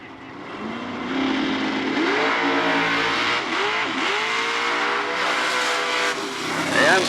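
An American-made hot rod launches into a wheel stand at a power wheelstanding championship, its engine roaring loud and close with rising, revving pitch sweeps throughout, while an announcer talks over it.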